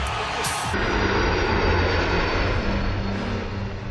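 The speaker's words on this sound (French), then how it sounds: "Le Boeing 757 de Trump est tout aussi puissant que l'Air Force One du président" Jet engines of Donald Trump's Boeing 757 roar in a steady, loud, broadband rush with a constant whine, filling the whole stretch without a break.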